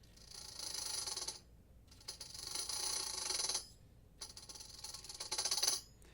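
A tambourine is played with a loose, fluttery finger roll, its jingles shimmering in three bursts of about one to two seconds each, separated by short silences and heard up close.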